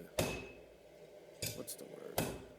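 Three sharp metallic strikes ring out as a blacksmith hammers a knife blade with the cross-peen of a hammer, spaced unevenly about a second apart, each blow loud and close with a brief ringing decay.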